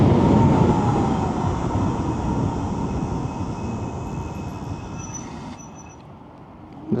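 A Roadrunner RX7 electric scooter under hard braking: loud, close wind rush and a thin motor whine taper off over several seconds as it slows, then fall to near quiet once it stops, with no talking.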